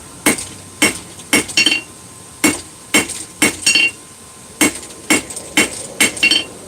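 Hammer blows on hot steel at an anvil during a two-sided set down, about a dozen sharp ringing strikes in uneven bursts, some doubled, loud and close with quiet gaps between.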